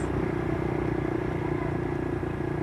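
A motorcycle engine with a worn clutch lining runs at a steady, droning rev, close and moderately loud, with a constant low rumble and no voices over it.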